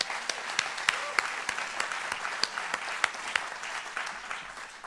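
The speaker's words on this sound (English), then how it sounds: "Let's give her a round of applause." An audience at an evening event with a Stanford alum news anchor bursts into sustained applause, dense clapping from many hands that stays steady and lively throughout.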